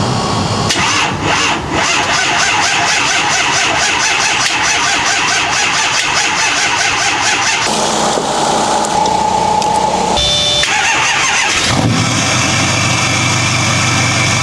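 A notoriously unreliable truck's engine roars loudly and continuously on a long highway drive, droning steadily with shifts in pitch as it works harder.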